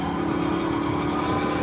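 A Lamborghini Huracan engine at speed on a track holds a loud, steady, dense roar throughout, with a constant low drone and no pauses.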